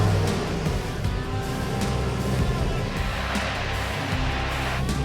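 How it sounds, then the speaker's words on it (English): Chevrolet Silverado pickup truck engine running loud and close as the truck is driven forward, a steady rumble with slight revving throughout and no talking. "I gotta move the truck forward"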